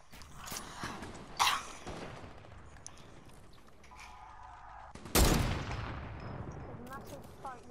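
Video game gunfire: two distant sharp shots early, then a louder close blast near the middle that decays into rumbling, with quiet ambient noise and faint voices between.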